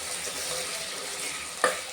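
Ginger garlic paste sautéing with onions in a pan for a South Indian vegetable kurma, a steady close sizzle and frying hiss with one brief stir clink near the end.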